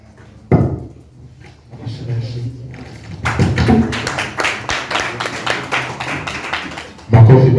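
Scattered audience applause at a live event: brisk, uneven hand claps build over several seconds, with a voice talking over them before a louder burst near the end.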